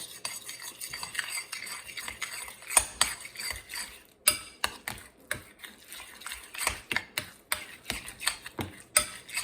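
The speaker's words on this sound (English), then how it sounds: "Take my fancy fork out of here and mix this together" A fork mashes and mixes deviled egg yolk filling in a bowl, making a steady run of close, crisp metallic taps and scrapes in an uneven rhythm, with no talking.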